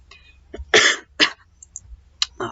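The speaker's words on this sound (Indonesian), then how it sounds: "Batuk." A few sharp, separate coughs from one person, spaced irregularly across a quiet stretch of a sociology lecture, fairly close and loud with no talk between them.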